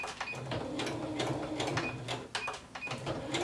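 A sewing machine runs a seam down the middle of a ribbon for a kimono or yukata costume, giving a close, steady mechanical whir broken by quick rhythmic clicking bursts, with no talking.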